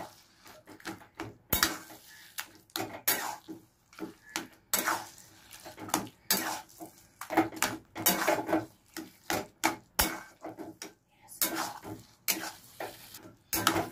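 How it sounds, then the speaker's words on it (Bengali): Taro leaves (kochu shak) stirred in a pan as their water cooks off, with repeated bursts of spatula scraping and clattering against the pan over a soft sizzle, in an irregular rhythm of strokes and short pauses. "কচু শাকের যে জলটা আছে সেটা আস্তে আস্তে করে আমি শুকিয়ে নেব। এর সঙ্গে পুরোটা মিশিয়ে নেব।"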